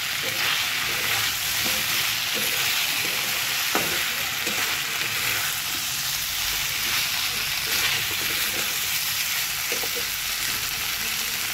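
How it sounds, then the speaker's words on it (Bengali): Fried pumpkin pieces and soybeans are stirred into a spice paste in a hot pan, giving a continuous loud sizzle with occasional scrape and clatter of the spoon. "এবার এই যে কুমড়ো ভাজাগুলো ছিল সেগুলোকে দিয়ে দেবো, সয়াবিন সব কিছুই দিয়ে দেবো আমার সঙ্গে। এই মশলার সঙ্গে ভালো করে মিশিয়ে নেবো।"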